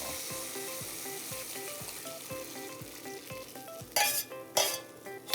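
Mixed seasoning and water poured into a hot pan while cooking spicy tantanmen: steady sizzling and stirring with rhythmic clinks of a utensil against the pan, then two louder bursts of hissing splash near the end.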